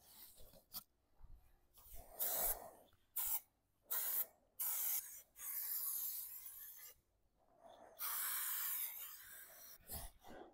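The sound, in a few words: spray gun applying Raptor liner coating to a trailer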